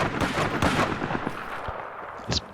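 Sniper gunfire during a long-range firefight in Battlefield 4: several sharp shots crack in quick succession early on, then sparser reports and a brief loud burst near the end, all over busy battlefield noise.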